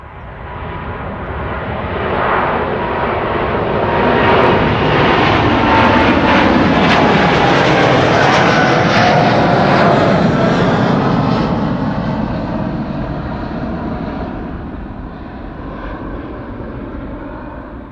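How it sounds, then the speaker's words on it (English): A Boeing 787 Dreamliner jet taking off at Amsterdam Schiphol Airport, its engine roar swelling loud and close, holding a powerful peak with a shifting whine, then slowly fading as it climbs away; no one speaks. "The Dreamliner, beautiful."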